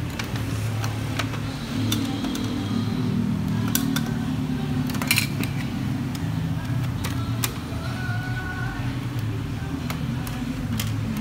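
A Brother DCP-T510W inkjet printer runs a head-cleaning cycle, giving a steady low mechanical hum with scattered small clicks and ticks throughout, close and continuous with no talking.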